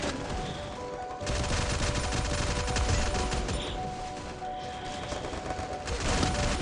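Rapid automatic gunfire from the video game Free Fire rattles in dense, loud continuous bursts across the whole stretch, with the weapon sound dominating and no talk over it.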